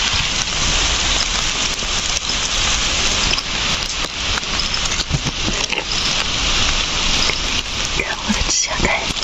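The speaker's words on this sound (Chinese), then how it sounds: "哇，下雨了！" Steady rain patters across the forest ground in Alejandro de Humboldt National Park, Cuba, a continuous close hiss of drops with occasional louder splats throughout.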